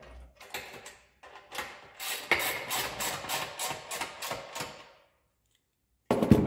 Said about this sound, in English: Take another one of our bolts and tighten it up.